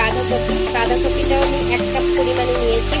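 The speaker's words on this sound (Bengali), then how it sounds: "বাঁধাকপিটাকেও আমি ভালো করে চিকেনের সঙ্গে একটু নেড়ে করে ভেজে নিচ্ছি" Cabbage and mixed vegetables stir-fried with chicken in a hot pan, a steady close sizzle with occasional scraping stirs underneath a constant hum.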